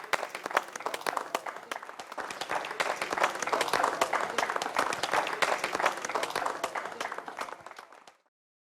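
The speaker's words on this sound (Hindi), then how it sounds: "अबे तालियां!" A small group claps at a pan shop opening after a puja, brisk uneven applause that swells in the middle and then stops abruptly near the end.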